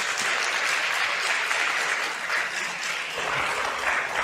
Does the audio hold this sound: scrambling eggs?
no